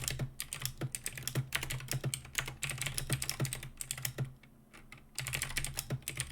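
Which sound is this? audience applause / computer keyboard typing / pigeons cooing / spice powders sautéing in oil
computer keyboard typing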